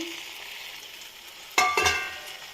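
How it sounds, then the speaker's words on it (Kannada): Boiled mushrooms go into a simmering masala gravy, giving a sudden wet splash and then a brief sizzle and stir after a quiet, low bubbling. The sound is close and moderately loud. "ಮಸಾಲೆ ಎಲ್ಲ ಚೆನ್ನಾಗಿ ಈ ಕುದೀತಾ ಇರುವ ಈ ಮೂಮೆಂಟಲ್ಲಿ ನಾವು ಬೇಯಿಸಿ ಇಟ್ಕೊಂಡಿರ್ತಕ್ಕಂಥ ಮಶ್ರೂಮ್ನ ಆ್ಯಡ್ ಮಾಡಬೇಕಾಗುತ್ತೆ"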